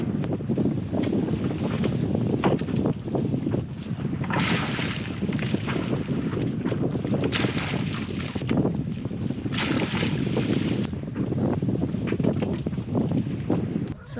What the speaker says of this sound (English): So now I get to clean it off by dumping a bucket in.